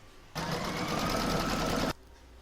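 Embroidery machine stitching an in-the-hoop scissor holder and pin cushion, a steady, fast, close mechanical whirr running for about a second and a half with no voice over it.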